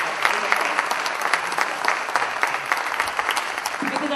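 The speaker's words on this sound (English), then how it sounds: "big applause for that" A panel discussion audience at the KASHISH 2016 film festival breaks into loud, dense applause that holds steady from start to finish.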